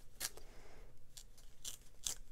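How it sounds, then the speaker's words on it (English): A paper page is torn by hand around a circular die cut, giving several short crisp ripping bursts in quick succession, close and quiet with no talk. "you hold it down and you start to rip your page around your die cut in that same circle shape"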